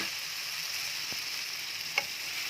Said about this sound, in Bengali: দেখো পালং শাকটা বসিয়ে দিয়েছি আর এটা না আমি একটা স্টুয়ের মতো করি মশলা একদম কষে গেছে দেখো তেল ছেড়ে দিয়েছে